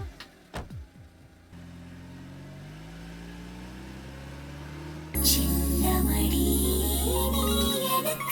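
A car engine turns over and settles into a low idle, then revs loudly as the car pulls away, a sustained close engine drone after some brief noises at the start.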